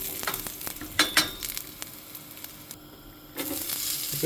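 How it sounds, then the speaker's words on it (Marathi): Xacuti masala dry-roasting in a pan, a soft steady sizzle broken by a few utensil clinks and scrapes, one brief quiet gap, close and with no speech. "ओके मातशें भाजून घेता आनी शाकुतीक कशें भाजता पळयता."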